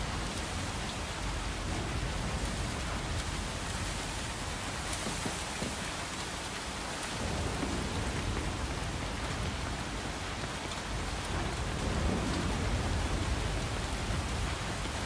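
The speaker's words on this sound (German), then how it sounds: "Es regnet wie Sau hier." Steady rain pours in the farming video game Coral Island, a constant dense hiss of drops on surfaces lasting fifteen seconds, even and fairly loud with no voices.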